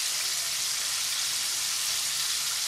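Crispy fry breading sizzling in melted butter in a pan, a steady bright hiss that holds evenly from start to finish with no voices.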